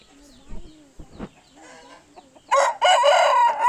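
A Dye Black rooster, a heavy country fowl over 4 kilograms, crows loudly and close on a Coimbatore farm, its long call coming in two bursts after a stretch of quieter background sounds.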